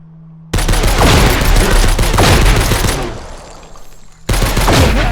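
Gunfire in the shooter She Will Shoot erupts as loud, sustained volleys of rapid shots, close and dense, with a brief lull near the four-second mark before another heavy burst starts.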